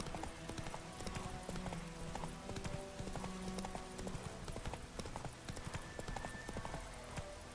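Roach, the horse in The Witcher 3, gallops with steady rhythmic hoofbeats, clear and close, with an occasional whinny over an ambient game background.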